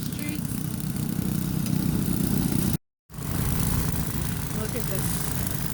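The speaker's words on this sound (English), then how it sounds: "He's snow blowing the street." A snow blower's engine drones steadily and loudly while clearing an icy street, broken by one brief gap, with voices mixed in over the noise.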